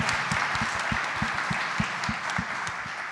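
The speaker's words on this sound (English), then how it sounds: "Yeah, quick round of applause for Michelle." An audience at a downtown policy event claps for an honoree, a dense, lively round of applause with some individually distinct claps standing out near the front, steady across the moment.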